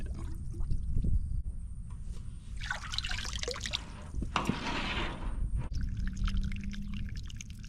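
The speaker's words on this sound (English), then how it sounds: "I'm gonna see if I can siphon it with the hose" Water siphoned through a garden hose out of a drain tank on a hot day, a steady close trickle and gurgling pour with a few splashy surges, continuous throughout without talk.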